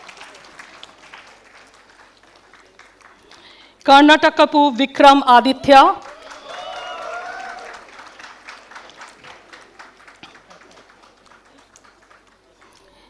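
A convocation audience claps for graduating students as names are read out, a short burst of applause rising mid-way and then fading under a presenter's ongoing voice.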